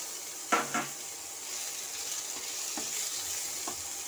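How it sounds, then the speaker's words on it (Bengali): Garlic, ginger and chopped tomato fry in oil in a pan, giving a soft, even sizzle broken by a couple of sharp utensil clinks early on and a few lighter taps later. "এরপরে আদা দিয়ে দিচ্ছি, টমেটো কুচিটা দিয়ে দিলাম।"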